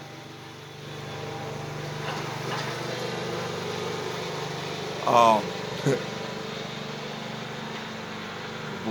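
A tractor engine runs with a steady, droning mid-range hum throughout, with someone talking over it and a couple of brief louder bursts partway through.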